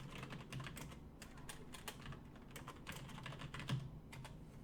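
Someone types on a computer keyboard with quiet, uneven bursts of key clicks at close range and low volume.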